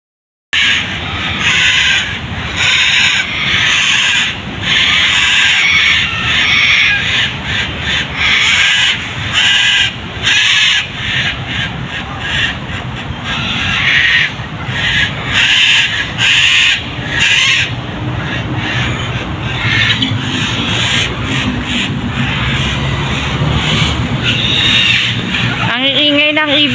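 Noisy birds at a wildlife center park in the Philippines: a dense, continuous chorus of loud squawking and chattering calls, close and sustained, with a person talking over it.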